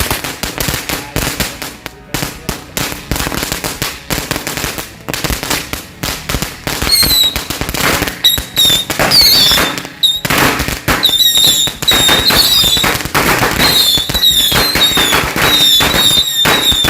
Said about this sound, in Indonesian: eksperimen pesawat versus mercon roket